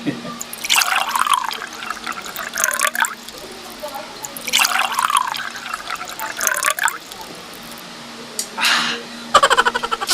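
Water pours and splashes in repeated bursts during a bath taken to cool off in the heat, with short gaps of quieter trickling between pours and a faint steady hum underneath.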